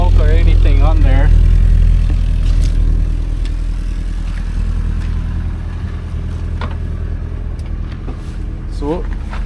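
A 1984 Subaru Brat engine idles steadily with a low, even rumble close by, while someone talks over it at the start and end.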